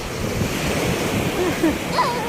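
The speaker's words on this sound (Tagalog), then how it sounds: "Ang lakas ng alon." Strong surf rolls and crashes in a constant roar at a beach resort, with wind buffeting the microphone and a few faint voices briefly heard over the water.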